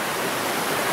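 Water rushes through the Tolmin gorge, a dense and even roar of white noise like a close waterfall or a fast stream, heard alone for a single second.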